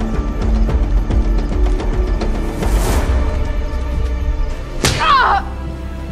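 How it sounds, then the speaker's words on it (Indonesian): Punch blows in a fight scene of a film set in Afghanistan, a few sharp smacking hits over a tense music score, with a bright whooshing impact near the end. "Di dalam menara, Enos mendapat pukulan dari Mullah sehingga suara jeritan sakitnya terdengar oleh Chris di luar."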